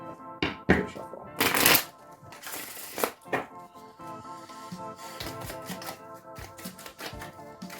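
A deck of oracle cards being shuffled by hand, with bursts of crisp riffling and flicking, several louder rapid shuffles early on followed by softer steady card handling, close to the microphone with no talk.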